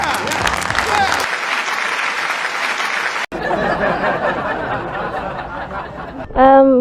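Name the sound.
applause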